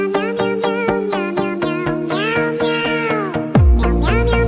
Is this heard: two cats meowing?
yes